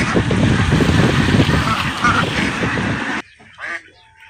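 Ducks kept in confinement on a duck farm call loudly in a dense, continuous chorus of overlapping honks and quacks, then the flock noise cuts off abruptly, leaving a few brief, fainter calls.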